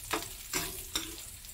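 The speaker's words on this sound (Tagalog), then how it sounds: "Pangklaseng paksiw to kasi gigisa ko muna para mas mabango" Aromatics being sautéed in a pan before tuna paksiw is cooked, giving a steady sizzle broken by three sharp scraping stirs, close and alone without voices.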